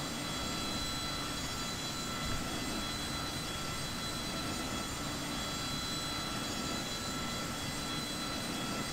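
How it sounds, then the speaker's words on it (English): F-104 jet engine spooling up during startup in a flight simulator game, a steady broadband whine and roar with high tonal lines, constant and fairly loud throughout with no talking. "So start switch, start and release. And we're going to watch our RPM rise."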